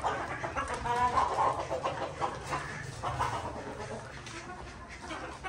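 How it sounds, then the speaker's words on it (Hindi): A flock of gathered chickens clucks and chatters in a busy, continuous mix close by, with farmyard background noise and no clear speech. "और ज़्यादा मुर्गियाँ जो है इकट्ठी हो गई हैं"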